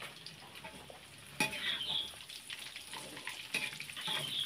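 Tofu sizzles and fries in a hot wok on a simple home kitchen stove, a steady bubbling crackle with a sharp burst as pieces drop in, plus occasional scraping stirs.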